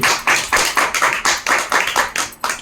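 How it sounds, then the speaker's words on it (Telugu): A worship congregation claps their hands in a brisk, even rhythm, about four loud, sharp claps per second, close and unbroken. "చప్పట్లు కొట్టి."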